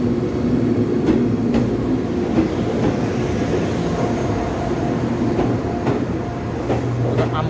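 A nine-car EMU1200 Tze-Chiang express train, service 167 bound for Chaozhou, rolling into a station with a loud continuous rumble, rhythmic wheel clatter over rail joints and faint squeals, heard close with no talking.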